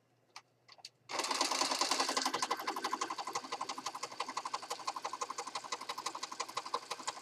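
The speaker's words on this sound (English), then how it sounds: "Stitch, stitch, stitch, just stitching away." A sewing machine stitches ribbon onto a journal page, a few soft clicks giving way to a fast, even run of close mechanical stitching that holds steady throughout.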